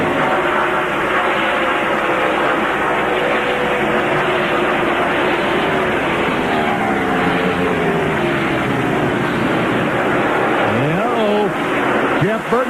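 NASCAR Winston Cup stock cars roar around Michigan Speedway at the Pepsi 400, a loud, sustained engine drone with passing pitch sweeps near the end, under race commentary.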